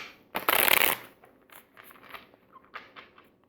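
A deck of tarot cards is riffle-shuffled close by in one loud, brisk burst lasting about half a second, followed by softer rustles and taps as the cards are squared and handled.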